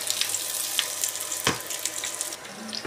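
Garlic and fried rice frying in hot cooking oil in a pan, a steady close crackling sizzle with scattered pops and brief stirring scrapes throughout.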